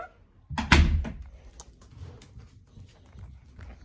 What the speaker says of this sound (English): Close door number 1.